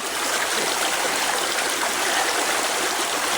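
Cold stream water on a small farm runs in a steady, dense rush and gurgle, close and loud, with no voices over it.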